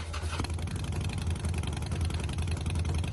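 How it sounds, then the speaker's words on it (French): A Harley-Davidson motorcycle engine idles steadily, a deep low throbbing rumble that stays loud and even throughout with no voices. "le son du moteur aussi, puis la vibration du moteur, on le sent vraiment bien"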